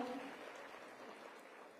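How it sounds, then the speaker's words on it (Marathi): A crowd claps together at a Nari Shakti women's conference, a brief burst of audience applause that starts strongly and tapers slightly over under two seconds, with no voices clearly heard. "मला वाटतं एकदा जोरदार टाळ्या वाजवून आपण आपला समर्थन सिद्ध करूया."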